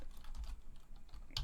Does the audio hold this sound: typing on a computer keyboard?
yes